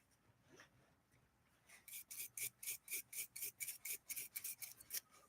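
A brush scrubs a copper part in a workshop, a rapid run of rhythmic raspy strokes, about fifteen close bristle passes at a steady pace, after a quieter start with light handling sounds.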